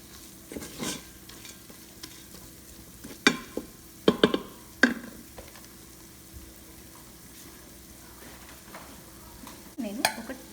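Masala frying lightly over a lowered flame for chicken dum biryani, a soft low sizzle broken by a few sharp spoon-and-pan clatters as it is stirred, with no talking.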